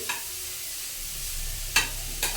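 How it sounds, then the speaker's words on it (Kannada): Grated carrots fry in ghee on a stove over medium flame for carrot halwa. A steady close sizzle runs throughout, with a few sharp scraping clinks of a spoon stirring the pan. "ಕ್ಯಾರೆಟ್ನ ಚೆನ್ನಾಗಿ ತುಪ್ಪದಲ್ಲಿ ಹುರ್ಕೊಬೇಕು"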